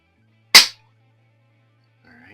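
A single sharp shot from a Norica Variatus .22 bullpup air rifle with a Lothar Walther barrel, fired empty, a loud close crack that decays quickly, followed by a quiet low hum and a brief faint voice.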